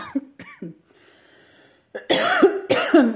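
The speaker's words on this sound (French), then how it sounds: "J'ai toujours ma toux, ça veut pas passer." Several coughs from a person with a lingering cough: a few short, hoarse bursts at the start, a quiet pause, then two louder, harsher coughs close to the mic.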